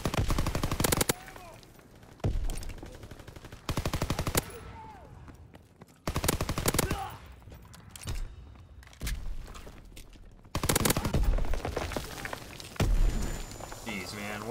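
Bursts of video-game gunfire crack out in several loud volleys, some in rapid automatic strings, separated by quieter stretches where a player talks over the game.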